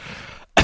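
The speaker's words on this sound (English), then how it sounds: "I cough." A single short throat-clearing cough from a man with a cold, loud and close, right after a brief silence.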